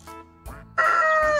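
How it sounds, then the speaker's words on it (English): A rooster crows once, loud and close, with a few short clucking notes just before the long call. "A rooster sings early in the morning."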